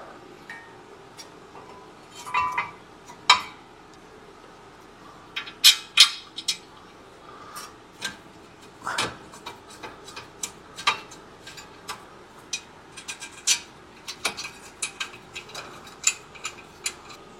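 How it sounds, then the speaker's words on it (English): Metal brake caliper bracket slid back over the rotor, giving scattered light clinks, taps and ticks of metal on metal, close and fairly quiet, with no talking. "Now it's time to take our bracket and we're going to reinstall it over the rotor."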